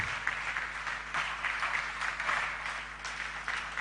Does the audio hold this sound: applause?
yes